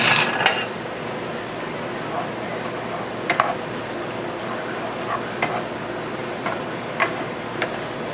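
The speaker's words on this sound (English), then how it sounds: "Stir it up." Whole wheat pasta with basil, carrots and roasted garlic stirred in a pan, with a soft continuous sizzle under occasional sharp scrapes and clinks of the utensil against the pan.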